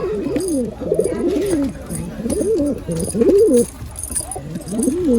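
Pigeons coo close by in repeated low, rolling phrases that overlap in bursts, with faint high chirps in the background, in a pigeon loft in Palakkad.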